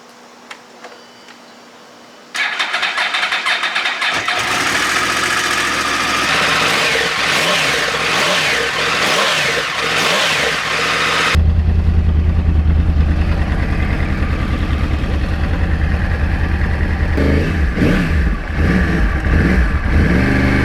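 A Yamaha R1 crossplane motorcycle engine fires up after a quiet moment, then idles roughly and revs repeatedly, with a louder, deeper run of throttle blips near the end, close and loud throughout.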